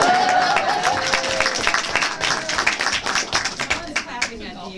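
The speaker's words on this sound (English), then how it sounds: "Someone is clapping at DHS right now" One person claps steadily on a board workshop call, a run of sharp, distinct hand claps that grow denser and louder toward the end while a voice talks over the start.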